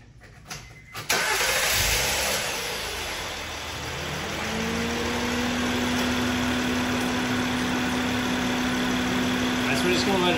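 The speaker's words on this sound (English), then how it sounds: "we're just gonna let it idle for a little bit, get the engine moving and pushing that oil around" Car engine cranking and catching after a fresh oil change, then settling into a steady, moderately loud idle with a constant hum; a voice speaks over the start.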